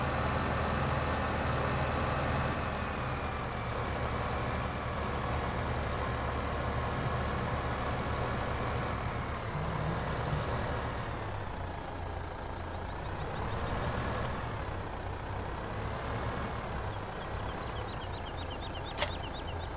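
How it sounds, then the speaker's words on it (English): Truck engine in Farming Simulator 15 running steadily at close range, a continuous low rumble with rising and falling revs and a brief high beep near the end, no talk. "Let's get that truck over there."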